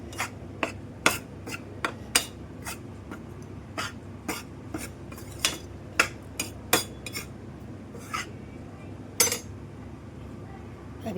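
Gram flour roasts in ghee in a pan as a spoon stirs it, producing a steady series of sharp metallic clinks and scrapes in an irregular rhythm, close and fairly quiet.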